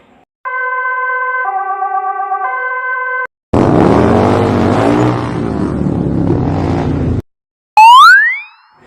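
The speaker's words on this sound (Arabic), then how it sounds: "دراجة نارية." A motorcycle engine revs for several seconds, its pitch rising and falling as it accelerates. It comes right after a two-tone emergency siren and is followed by a quick boing effect. The engine is loud and near, with no speech.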